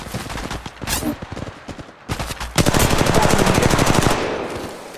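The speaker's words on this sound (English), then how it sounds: "Firing." Rapid automatic gunfire crackles in Apex Legends Mobile, starting with short bursts and a pause, then a long sustained stream of fast shots that fades slightly toward the end.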